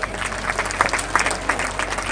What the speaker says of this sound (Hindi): जोरदार तालियां दीजिए।